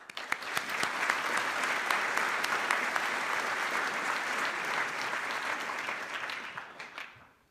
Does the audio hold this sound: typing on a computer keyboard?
no